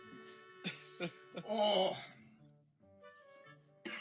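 A person coughs and clears their throat in several short, close bursts with a thicker rough spell in the middle, mixed with brief spoken exclamations.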